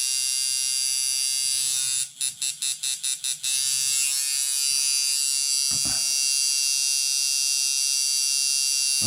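A coil tattoo machine runs with no load, giving a steady, loud electric buzz that briefly stutters on and off before settling into a constant drone.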